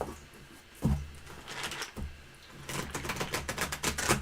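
A deck of tarot cards being shuffled at close range, a run of soft riffling clicks and slaps that grows denser and busier toward the end, with no speech.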